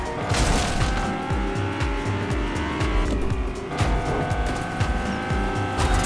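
A car driving in the Fortnite video game, its engine droning steadily with rhythmic low-end pulses and a tire squeal, loud and continuous throughout with no talking.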